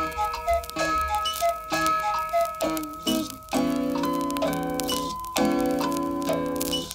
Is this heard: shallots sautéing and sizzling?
no